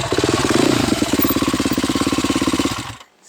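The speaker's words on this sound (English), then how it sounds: "once you get confident, you can just lighten the front end with a little bit of throttle" A dirt bike engine revs hard and close with a fast, pulsing throttle rattle while riding through a rut on an enduro trail, then cuts off abruptly at the end.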